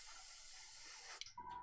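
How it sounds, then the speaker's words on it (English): A short airbrush-style spray hisses steadily while paint goes onto a board game miniature, then cuts off abruptly and leaves a faint tone behind. "I'm just going to spray just down here, just to kind of highlight this edge"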